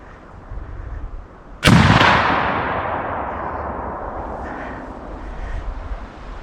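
A single loud, close rifle shot fired while deer hunting in Alabama, a sharp crack followed by a long rolling echo that slowly fades over several seconds outdoors.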